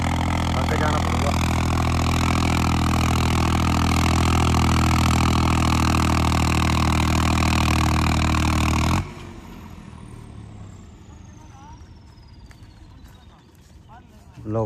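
A tractor engine drones loud and steady under heavy load while dragging a harrow, then abruptly cuts out about nine seconds in, leaving only faint, quiet background noise.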